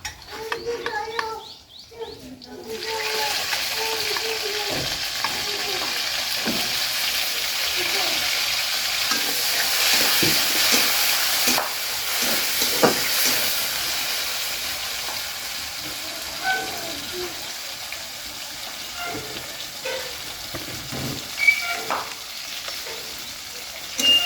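Oil sizzles and crackles steadily as ripe tomatoes fry to brown in a pan while stirred, with occasional clinks and scrapes, a voice speaking intermittently over the frying.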